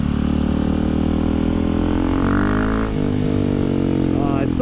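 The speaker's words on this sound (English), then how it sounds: "Yeah, the exhaust is loud." A KTM 690 dual-sport motorcycle's exhaust booms loud and close at a steady, throbbing idle with a brief rise in revs in the middle. A person talks over the engine.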